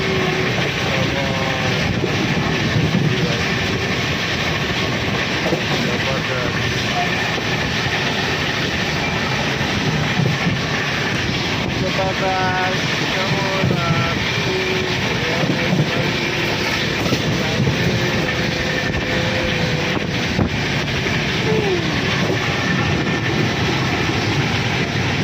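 A passenger train on the Mumbai to Gondia route heard from inside the carriage: a continuous rumble of wheels on rails with light rattling, loud and steady throughout, with faint voices now and then.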